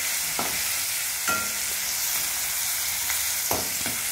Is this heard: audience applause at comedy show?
no